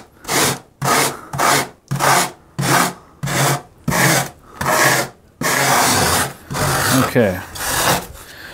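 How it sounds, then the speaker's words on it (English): A hand rasp files the edges of spray foam on an N scale model railway hillside: about nine rhythmic, scratchy strokes close up, ending in a longer stretch of rubbing, with a brief word spoken. "I'm just going to run the rasp over this real quick"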